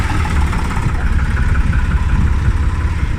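A Yamaha XT 600 enduro motorcycle engine runs loud and close, its steady, rough thrum holding at a constant throttle with no voices over it.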